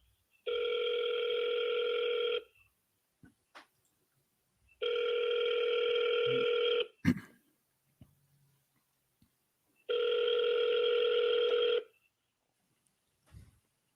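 An outgoing call rings on a cell phone line: three long, steady ringback tones separated by pauses of silence, clear and close, with faint clicks between them.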